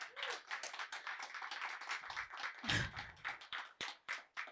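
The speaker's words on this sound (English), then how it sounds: "Can we give them a round of applause?" A small audience at a literary conversation event claps for two guests, with sparse, close, individual hand claps in an irregular patter that begins to thin out.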